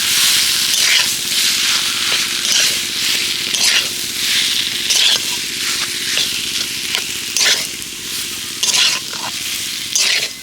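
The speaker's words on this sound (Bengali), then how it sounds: "এবার এখানে আলুটাকে ভালো করে আমি নেড়ে চেড়ে মশলার সাথে কষিয়ে নেব" Potato filling frying with spices in a pan, a dense sizzle broken by repeated sharp scraping strokes of a spatula as it is stirred, close and loud with no speech.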